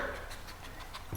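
Harley, a small dog, pants in a room with quick, steady breaths close by, and no talking is heard.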